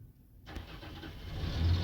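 A heavy truck rumbles past outdoors, its low engine drone swelling steadily and growing louder toward the end, with no voices.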